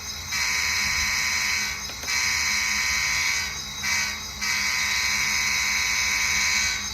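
Bachmann N scale CSX GP40 model locomotive's onboard sound playing a grade crossing signal: a steady electronic horn-like tone in three blasts, two long with a short one between, small-speaker and fairly close, with no talk.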